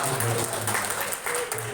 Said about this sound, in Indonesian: Sekali lagi beri tepuk tangan yang meriah buat Ibu Risma